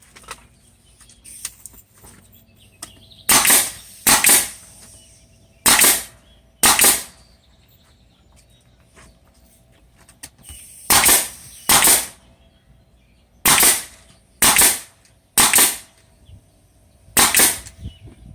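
A nail gun fastens a wood piece into a rotted window sill with nine sharp, loud shots, mostly in pairs separated by quiet pauses.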